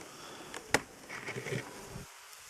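Honeybees buzz around a nucleus hive at an apiary, a soft hum close by with a sharp click partway through. Individual bees drone past before the sound thins out near the end.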